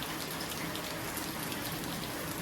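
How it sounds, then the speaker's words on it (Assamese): Steady rain falls continuously in a dense, even hiss of drops striking surfaces nearby, with no voices or other sounds. "বৰষুণে ৰখা নাই মানে বৰষুণ দি আছে"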